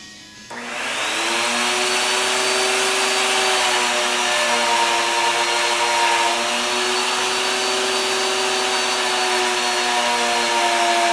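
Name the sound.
router table cutting wood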